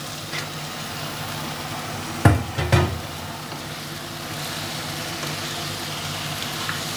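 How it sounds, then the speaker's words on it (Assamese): Mutton frying with spices in a pan gives a steady, broad sizzle close by, broken by two sharp clattering bumps of the pan or spoon partway through, with no talk. "এতিয়া মছলাখিনি ভাজি হ'ল এতিয়া ইয়াত মই মাংসখিনি দি দিম"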